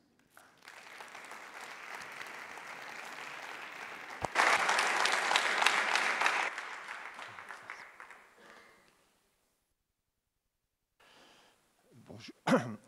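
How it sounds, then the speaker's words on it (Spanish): An audience at an academic lecture welcomes the speaker with applause that builds, peaks loudly for a couple of seconds, then tapers into silence. A brief cough or throat-clear follows near the end. "Un fuertísimo aplauso."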